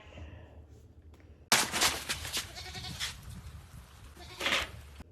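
A person mimics a goat's bleat, a sudden loud, wavering cry that breaks in after a quiet start, stutters on for a few seconds and swells again near the end.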